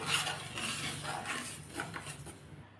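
Ragi (finger millet) being dry-roasted in a pan, with a continuous scraping and rustling of grains stirred against the metal, plus faint clinks of the utensil, close and steady throughout.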